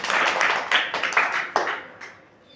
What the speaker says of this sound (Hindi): तो इनके लिए भी तालियां बजा दीजिए।